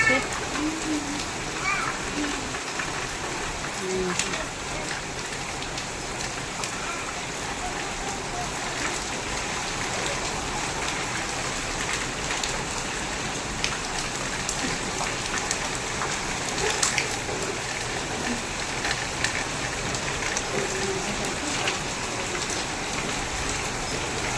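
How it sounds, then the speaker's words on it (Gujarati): Heavy rain pours down steadily at a farm, a dense even hiss of drops hitting surfaces that lasts throughout, with a voice talking now and then over the downpour. "ફૂલ વરસાદ ચાલુ છે"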